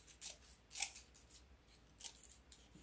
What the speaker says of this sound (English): So you're going to take your scissors.